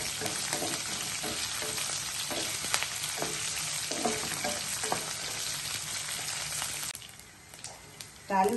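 Steady crackling sizzle of spices frying in hot oil for tempering, continuous and close, with brief stirring clinks before it quiets near the end.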